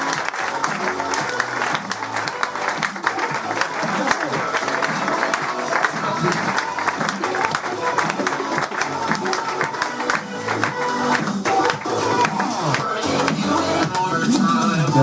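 A comedy show crowd breaks into sustained applause mixed with cheering, the clapping thick and continuous for about fifteen seconds under a busy background of voices and other sound.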